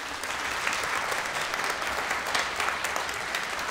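An audience at a clarinet concert applauds the composer, steady dense clapping from a crowd filling the room at an even level throughout.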